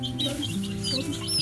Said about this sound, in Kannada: ಇದೆಂಥ ತಳಿ ಕೋಳಿ ಮರಿ ಅಂತಲೇ ಗೊತ್ತಿಲ್ಲ.